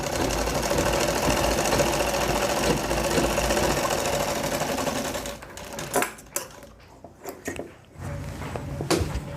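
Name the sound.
sewing machine stitching a folded trouser bone pocket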